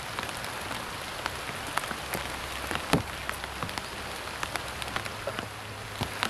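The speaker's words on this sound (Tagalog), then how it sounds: "habang hindi pa tumitila ang ulan" Steady rain falling on surfaces outdoors on a cold day, a dense patter with scattered louder drips throughout, no voices.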